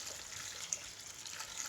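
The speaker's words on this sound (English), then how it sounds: "Boiling water across the top of the watercress." Boiling water poured over watercress, a steady hissing, splashing stream with no talk, fairly soft and continuous with one small clink partway through.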